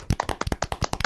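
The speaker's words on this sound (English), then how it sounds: "I'm going to golf clap that" A single person gives a slow golf clap, about ten light, evenly spaced hand claps close to the microphone, alone with no talking.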